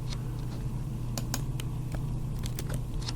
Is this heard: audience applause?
no